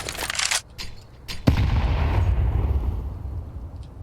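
Grenade blasts in a Counter-Strike pro match: rapid gunfire crackles at the start, then one loud explosion booms and rumbles on with a long low roll.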